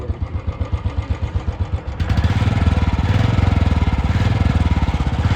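A Royal Enfield Standard BS6 single-cylinder motorcycle with 14,250 km on it thumps at idle with steady, close pulses, then revs up into a louder, denser roar that holds; no talking.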